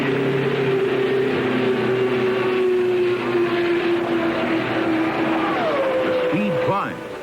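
A 1976 Indianapolis 500 backup race car in practice, its engine droning loudly and steadily with a sustained high whine, then a falling pitch sweep near the end as it passes or slows, with commentary-like voices mixed in.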